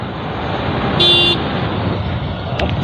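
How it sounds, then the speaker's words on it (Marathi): A single short car horn honk sounds over steady road traffic and engine rumble. "हॉर्न देत जा हॉर्न"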